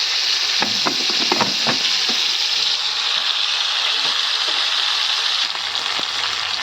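Fish frying in hot oil in a home kitchen, a steady close sizzle with a few sharp pops and spatters early on, no talk.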